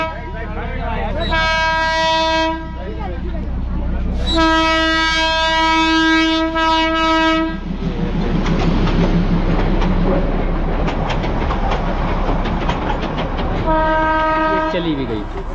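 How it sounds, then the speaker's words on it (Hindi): Darjeeling's two-carriage toy train passes close by, sounding repeated loud horn toots between stretches of rumbling, clattering wheels on the narrow-gauge track, with a voice speaking in between. "फाइनली अब आपको मैं ट्रेन दिखाता हूँ, जो टॉय ट्रेन है, और दार्जिलिंग की अनमन शान।"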